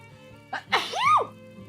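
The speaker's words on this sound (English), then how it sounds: "I did the sneeze." A single close sneeze: a sharp intake followed by a loud, rising-and-falling burst, over a faint steady hum.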